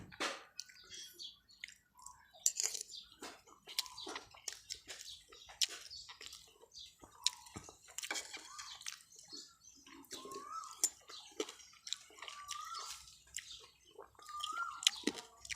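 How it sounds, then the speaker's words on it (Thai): Close, wet chewing of rice eaten with watermelon and chili dip, soft squishy bites and smacking repeating irregularly over quiet background, with no talking. "ผมกินข้าวกับแตงโม"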